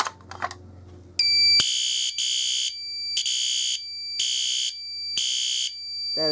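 Fire alarm system sounding during a test: a loud, piercing electronic horn blares in regular on-off pulses, repeating about five times after some brief handling clicks at the start.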